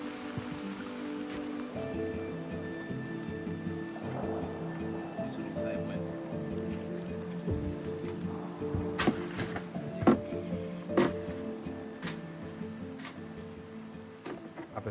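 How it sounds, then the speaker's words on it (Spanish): A heavy tropical downpour in the Venezuelan jungle, dense steady rain drumming on surfaces and water, with people talking underneath and scattered sharp drips or knocks. "Nos agarró el palo de agua."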